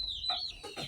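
Young Indonesian village chickens (ayam kampung), about three months old, give a brief burst of close clucking calls over faint background noise.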